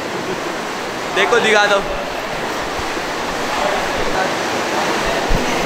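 A jacuzzi filled with hot water churns with a steady, close bubbling hiss, while people talk briefly over it.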